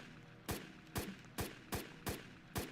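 C96 pistol firing in the video game Final Stand 2: six sharp shots at a steady, unhurried rhythm, each a loud crack with a short tail, with no talking.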